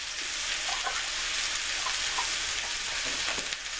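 Homemade Salisbury steak patties sizzle in a pan with a constant hissing crackle, close and even, dotted with small pops and spits throughout.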